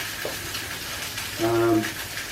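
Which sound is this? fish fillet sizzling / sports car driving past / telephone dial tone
fish fillet sizzling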